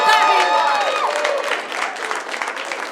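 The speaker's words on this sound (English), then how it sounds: "Okay, now keep clapping." An audience claps steadily at a stage event where a couple is being called up to share testimonies from Zambia. The applause is dense and continuous throughout, with voices and some tonal sound mixed in beneath it.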